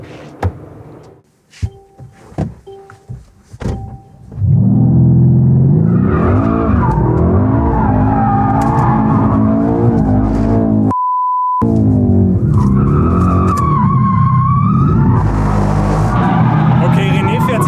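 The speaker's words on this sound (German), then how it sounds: "ich würde jetzt dann andersrum driften, alleine schon wegen den Vorderreifen und der Hinterreifen zuliebe" Mercedes-AMG car drifting, starting with a few sharp clicks and thumps, then a sustained loud tire squeal and engine roar that wavers in pitch, briefly broken by a beep tone.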